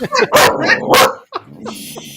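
A dog barks loudly and close by in a few sharp bursts, followed by softer yips and whimpers, with a little talk around it.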